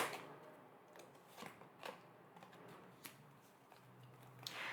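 Tarot cards are shuffled and drawn, giving soft riffling flutters and several quick papery snaps at irregular intervals, quiet and close, with no voices.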